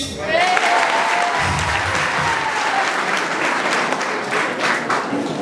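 Audience applause in a school hall at a jubilee celebration, a steady dense clapping that holds loud and continuous throughout, with no break and no voices standing out.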